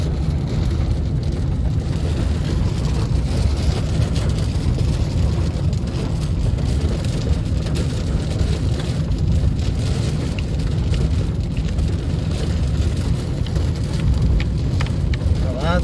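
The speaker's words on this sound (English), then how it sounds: "The loud sound is hail." Hail pounds down with rain and wind in a severe monsoon thunderstorm near Queen Creek and San Tan Valley, Arizona: a loud, dense, unbroken drumming roar that holds steady throughout.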